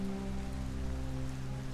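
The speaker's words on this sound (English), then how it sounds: "Why is it always raining?" Steady rain falls in the video game Detroit: Become Human, a soft, even patter spread across the whole stretch, with a low constant hum of game ambience beneath it and no voices.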